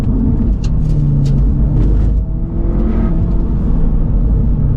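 A Lynk & Co 03+ driven on a racetrack hums with a loud, steady engine drone and low rumble, faintly surging, with brief higher whine bursts early on.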